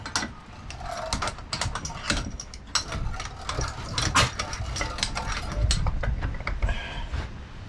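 Bench vise being adjusted on a 2005 Kawasaki Brute Force 650 front differential part, giving close metallic creaks, ratcheting clicks and scraping clunks in an irregular sequence, with no talking.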